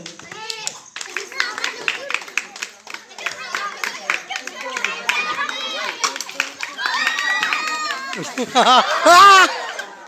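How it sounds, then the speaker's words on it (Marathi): Children and adults clap in applause for Rajnandini Neel and Ishwari Awate at a prize announcement, rapid crowd clapping filling the space while kids chatter and shout around it, growing louder toward the end. "राजनंदिनी निळ आणि ईश्वरी आवटे यांसाठी टाळ्या होऊन जाऊ द्या"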